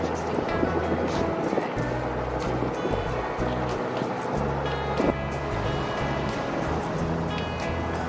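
Sailboat motoring in thick fog along the Spanish coast near the Rias, a steady low engine drone mixed with continuous wash of waves and water against the hull, close and constant with no talk.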